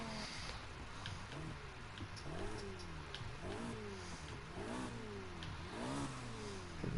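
A V10 car engine in the racing game Need for Speed Heat revs repeatedly. About six sharp throttle blips each climb in pitch and then fall back, loud and close over a steady engine drone.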